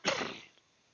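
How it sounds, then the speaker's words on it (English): A single short cough, fairly close and moderately loud, fading out within half a second, with no talk over it. "Still got the COVID cough."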